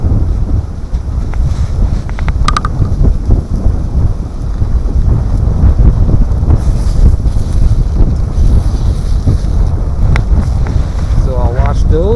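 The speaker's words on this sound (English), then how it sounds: "Pretty windy out." Strong cold wind blasts across a campsite, a constant loud roaring buffet with gusts hitting the microphone, with faint creaks and flaps of gear throughout.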